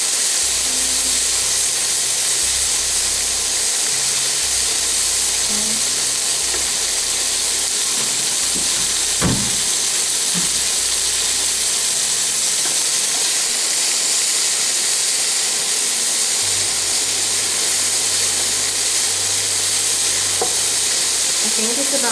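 Pork bacon fries in a pan for Chinese spring rolls, giving a loud, steady sizzle and hiss throughout, with a few brief stirring clacks and no talking.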